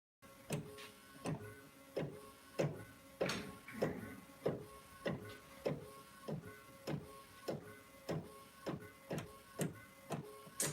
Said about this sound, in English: This is a printer I got from Micro Center for about 800 bucks, and I converted it here in my living room.